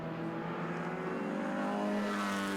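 MG and other British sports cars race closely past on the Winton circuit, engines revving high in a continuous, moderately distant roar with no talk over it.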